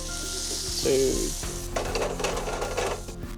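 Porcini mushrooms sizzling in butter in a pan, a loud close frying crackle with a steady tonal hum underneath and brief clatter of the pan.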